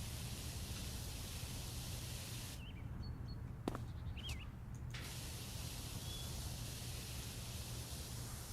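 Steady, loud hiss of a pressure washer spraying in the Power Wash Simulator video game, broken by one short gap of a couple of seconds before the continuous spray resumes.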